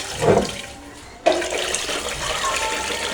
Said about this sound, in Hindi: ये यहाँ से ये हम पानी गिरा रहे हैं